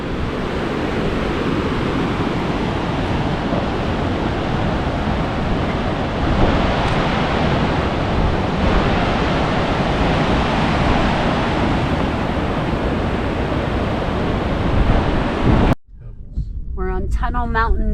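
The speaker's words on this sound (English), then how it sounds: "It's more of a series of class 5 rapids than a falls." Roaring whitewater of class 5 rapids in Johnston Canyon, Banff, a steady, dense rush that fills the air for about fifteen seconds before cutting off abruptly, followed by faint quieter sounds.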